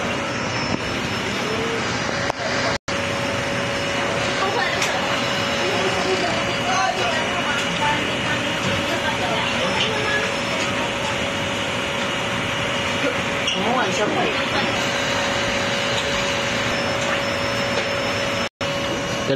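A PYD Odeon 4 DTF printer runs its head-cleaning cycle, a steady mechanical whir and hum with a constant tone, loud and unbroken except for two brief dropouts.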